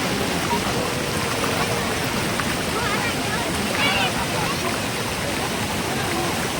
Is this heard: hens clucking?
no